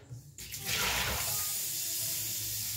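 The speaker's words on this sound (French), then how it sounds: "je vais remplir d'eau pour que la marmite elle puisse cuire les aliments" Tap water gushing into a cooking pot for boiling noodles, a steady broadband rush starting abruptly after a brief quieter moment, close and continuous without any voices.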